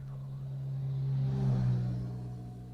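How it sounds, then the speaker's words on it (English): An engine rises and fades as a motorbike passes by outside, a low rumbling drone swelling to a peak and then trailing away. "This is not a car. This is a motorbike."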